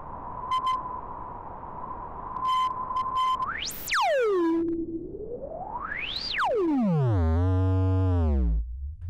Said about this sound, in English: the first mode here gives you white noise, plus a digital filter with resonance.